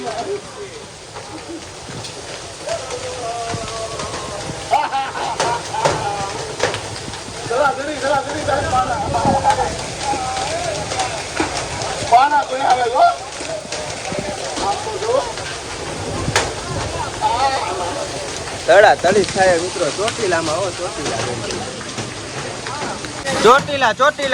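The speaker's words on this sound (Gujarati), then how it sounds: "ચોટીલામાં કરા પડ્યા કરા જોઈ લ્યો જોઈ લ્યો ચોટીલાના કરા જોઈ લ્યો" Hailstones and heavy rain pelt down during a storm in Chotila, a steady rattling patter with sharp clattering hits, while someone talks excitedly over it throughout.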